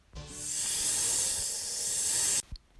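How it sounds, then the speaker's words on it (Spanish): A snake giving one long, loud, steady hiss lasting about two seconds, starting and stopping sharply, alone and close. "El turno de la serpiente."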